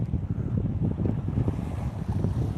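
Strong wind buffeting the microphone on a lake from a bass fishing boat, a steady loud roar with gusty low rumbles and water slapping, continuous with no voices.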